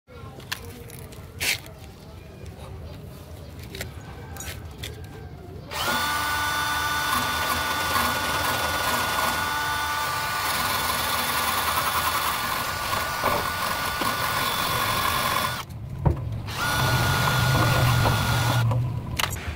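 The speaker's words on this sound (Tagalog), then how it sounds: "wire brush gamit ng drill para ang ground kay solid connection" A drill spins a wire brush to clean a car's ground connection during fuel system repairs, a steady loud whirring grind lasting many seconds after quieter handling noises, with brief pauses.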